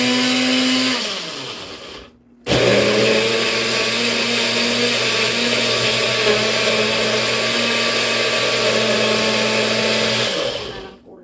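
A kitchen blender whirs through an oatmeal smoothie in two loud, steady runs broken by a short pause, its motor whine close and continuous before winding down.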